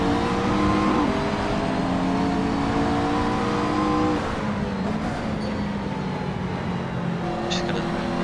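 GT3 race cars, BMWs among them, roll off and accelerate at Portimao in a racing game, a steady, loud engine drone with rising and falling revs while a voice speaks over it.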